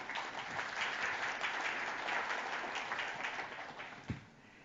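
A conference audience at a Magento keynote in New York applauds steadily for several seconds, the clapping fading out toward the end with a single louder thump.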